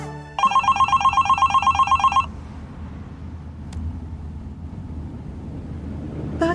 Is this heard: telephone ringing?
yes